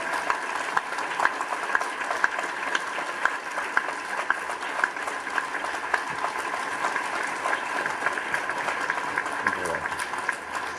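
Sustained audience applause at a public university talk, a dense even patter of many hands clapping steadily for the full stretch, fairly close and continuous with no voices standing out.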